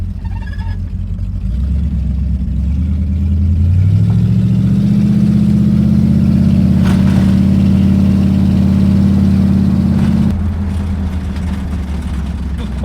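A 1934 Ford engine with oil-covered exhaust and badly worn brakes, cruising on a road test: a loud, steady low drone rises in pitch as the car picks up speed, holds for several seconds, then drops back.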